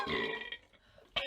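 A young man lets out a short, close belch, followed by a brief pause and a second quick burst at the end.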